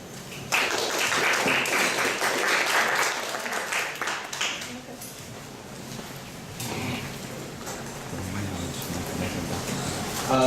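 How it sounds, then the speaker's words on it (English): Audience applause welcoming a speaker at a political talk, a dense crackle of clapping that swells early, thins out partway through, then picks up again, with faint background murmur. "Let's welcome him with a big round of applause."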